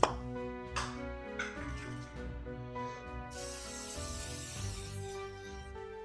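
A short burst of cooking spray from an aerosol can hisses for a couple of seconds into a cake pan over steady background music.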